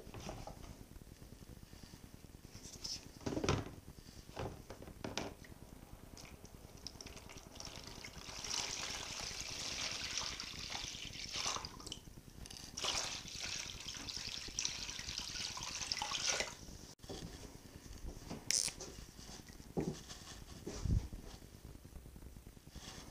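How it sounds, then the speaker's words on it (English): Water running into a tank for electrolysis rust removal, a steady trickling and splashing flow that continues through the whole stretch with small dips and surges, close and fairly quiet, with no talking. "we'll start filling up our tank here with water."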